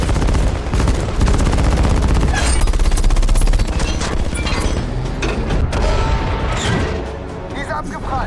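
Heavy tank gunfire from a Tiger and Su-100 in a war film, booming blasts crashing repeatedly in a dense, loud barrage, with shouting German voices mixed in amid the chaotic battle noise.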